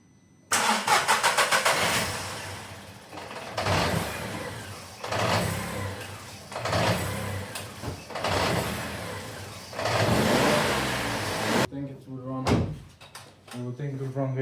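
A crash-damaged car engine, running without coolant after repair, cranks and catches, then revs in several loud surging bursts that rise and fall. A clunk like a door closing comes near the end.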